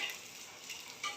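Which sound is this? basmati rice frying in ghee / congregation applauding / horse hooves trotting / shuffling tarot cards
basmati rice frying in ghee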